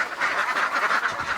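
Ducks in a duck shed quack in a close, lively chorus, with overlapping calls in quick succession throughout the short stretch.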